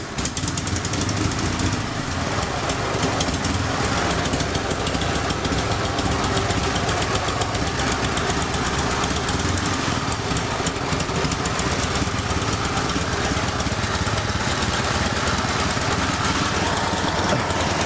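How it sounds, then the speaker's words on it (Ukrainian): A restored 1957 KMZ M72N motorcycle engine runs steadily at a close idle, its even mechanical chugging and knock carrying loud and unbroken with no talk over it. "отак працює КМЗ М72Н 1957 року виробництва"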